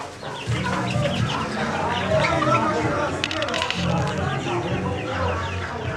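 Chickens cluck around their nests in a backyard coop, a busy, continuous chorus close by, while a person talks over the birds.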